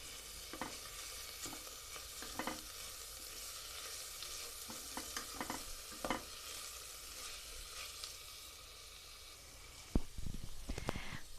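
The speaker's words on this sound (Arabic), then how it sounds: "نزلنا بالثوم كده معلقة صغيرة، وبعد كده بالفلفل الرومي المكعبات تقطيعة برضو صغيرة، وهندي تشويحة برضو للكلام ده" Minced garlic and small diced bell pepper stir-frying in a pan, heard as a quiet, continuous sizzle with scattered scraping stir strokes and a louder clatter of stirring near the end.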